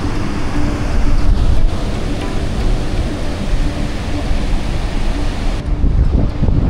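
Sea waves and wind on Lipit Beach in Baler, a steady broadband roar of surf with gusty wind buffeting the microphone throughout.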